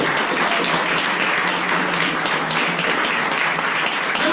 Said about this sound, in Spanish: por cierto, un aplauso